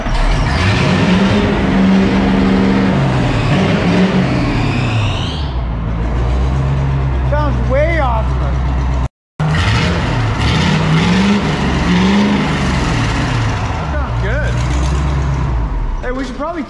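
An old street sweeper engine with no muffler roars loud and raw, revving up and down in rough sweeps, with one brief dropout midway and voices mixed in at times.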